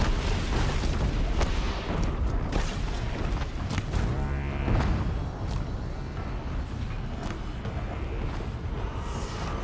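A Deathbringer machine in Horizon Zero Dawn sets off deep booming explosions amid a chaotic battle din, heavy blasts and rumbling bursts recurring across the stretch, loud and dense with no speech.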